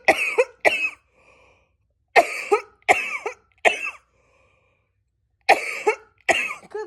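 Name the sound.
coughing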